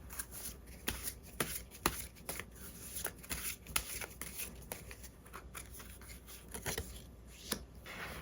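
Tarot cards being shuffled by hand, a run of crisp riffling and slapping bursts repeating irregularly over several seconds, close and fairly quiet with no talking.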